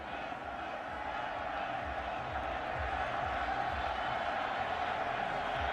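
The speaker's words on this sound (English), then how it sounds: "The crowd wants him to go for it." A stadium crowd at a Boise State versus Utah State college football game roars in a steady, dense wash of cheering and shouting that holds for several seconds, distant and continuous, with faint talk mixed in.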